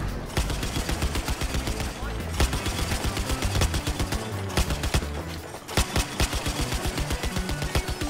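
Rapid, steady automatic fire from a vehicle-mounted gun in Battlefield 4, a loud continuous stream of evenly spaced shots with brief pauses, with voices talking over it.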